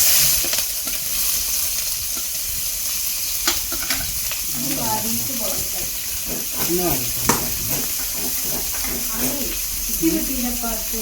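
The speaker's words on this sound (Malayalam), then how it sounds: "ഇത് ഉള്ളി വറുത്തിടാം" Onions fry in a pan with a continuous sizzle and hiss, broken by repeated scraping as they are stirred, while people talk over it.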